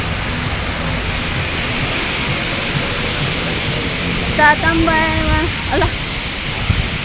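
Heavy rain roars in a steady broadband wash at close range. A person speaks briefly partway through, and a few faint tonal chirps cut across the downpour.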